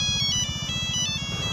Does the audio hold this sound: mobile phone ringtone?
yes